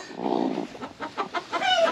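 Backyard laying hens cluck and squawk in short, irritated bursts near the coop during egg gathering, several quick calls in a row, close and moderately loud.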